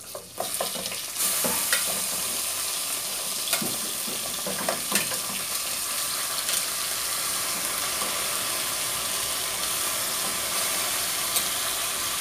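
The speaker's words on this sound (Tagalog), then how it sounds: "Ilalagay na natin yung ating mukha. Igigisa na natin siya." Pig face sautéed with garlic and onion sizzles loudly in a hot pan, a sharp burst as the meat goes in followed by steady frying hiss and occasional stirring clinks.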